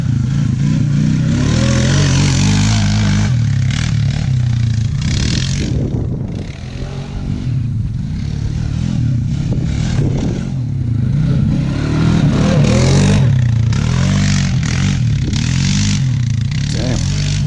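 2008 Honda Rancher ATV engine revving hard while ridden, a loud continuous throaty drone rising and falling with throttle changes, close by, with some rattling clatter and voices now and then.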